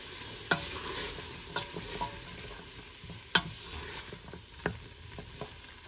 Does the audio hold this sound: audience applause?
no